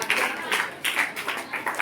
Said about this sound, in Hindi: ग्रीन हाउस के लिए ताली।